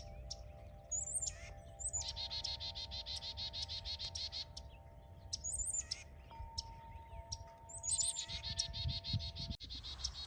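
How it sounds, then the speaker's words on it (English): Several chickadees sing in a garden in late winter, their repeated high chirping phrases coming in bursts over a low outdoor hum, fairly close and with no voices. "I have like 4 chickadees up here singing to me right now."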